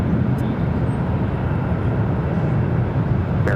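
A Delta airliner takes off from runway 7 left with a loud, steady engine roar that holds constant throughout.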